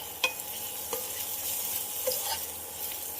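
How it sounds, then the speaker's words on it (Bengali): Eggplant frying in spiced oil on an induction cooker sizzles steadily and fairly loudly while a spoon stirs it, with a few sharp scrapes and taps against the pan. "খুব ভালো করে নাড়তে থাকবে, না হলে কী বলো তো তলায় লেগে যেতে পারে।"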